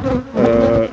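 Honey bees buzz in a loud, close, steady hum during a hive rescue as they are shaken down into an upper box. A queen excluder sits between the boxes, and the frames are rotten.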